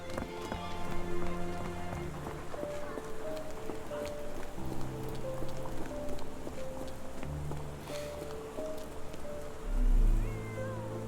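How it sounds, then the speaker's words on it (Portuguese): A cat meows within the Sherlock Holmes The Awakened game, a few short cries set against a steady bed of game music and a soft rain-like ambience, with no voices over it. "Gatinho."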